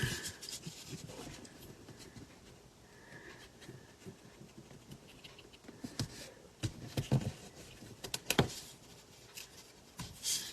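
Soft scratchy rips and rubbing as tear-and-tape strips are torn and pressed onto a paper card, quiet irregular rustles with a few louder sharp tears near the end.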